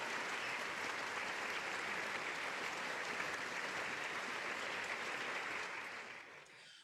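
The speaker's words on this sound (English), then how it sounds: "Let's give a big round of applause to all of our student organization individual contribution winners" An audience at the Ohio State University student leadership awards claps for student organization award winners, a full, steady round of applause that fades off at the end.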